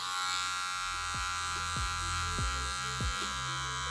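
Electric hair clippers running with the lever fully closed and no guard, a loud steady close-up buzz with a few short dips and scrapes as they pass through hair.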